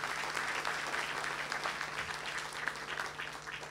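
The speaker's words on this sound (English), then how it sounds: "let us give a big round of applause for Professor Nakamura" A university lecture hall audience applauds a Nobel laureate professor, a continuous even round of clapping at moderate distance, sustained and unbroken with no voices over it.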